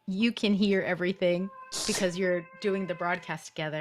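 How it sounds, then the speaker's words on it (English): An elderly West Highland terrier, 14 years old, howls in drawn-out tones during a live broadcast, mostly beneath continuous close talking with a brief clearer stretch in the middle. "I actually don't know if you can hear my doggy howling right now at this moment."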